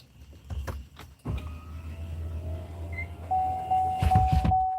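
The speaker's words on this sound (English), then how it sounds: "Gotta roll up the windows." An electric car window motor whirs as the glass rolls up, a rising hum ending with a thump, after a couple of nearby knocks.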